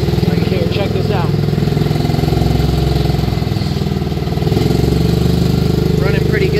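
A Polaris Ranger 500 6x6 utility vehicle with a loss-of-power and backfiring fault runs in forward low at light throttle, its engine producing a loud, steady close-up drone throughout, with someone talking over it.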